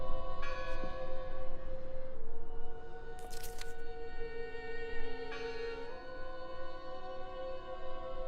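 A church bell ringing in the video game Draugen, a sustained tolling hum that lingers across the whole stretch, with a few brief sharp clanks and cracks on top and no voices.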